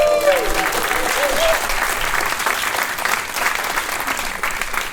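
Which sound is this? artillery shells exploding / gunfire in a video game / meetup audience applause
meetup audience applause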